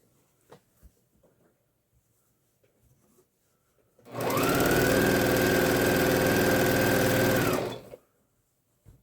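Sewing machine stitching an autumn table runner, running in one steady rapid whirring burst of about three and a half seconds, close and loud, then stopping, with faint handling noises before and after.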